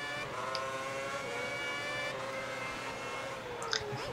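In the F1 2010 video game, a Formula 1 car's engine drones steadily on the formation lap in China, a continuous mid-level hum with a slowly falling pitch and no talk over it.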